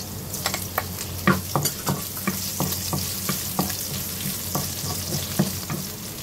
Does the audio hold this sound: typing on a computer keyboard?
no